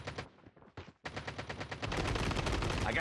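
Rapid automatic gunfire in the mobile shooter Call of Duty Mobile starts as separate bursts, breaks off briefly, then returns as a dense, continuous barrage that grows louder toward the end.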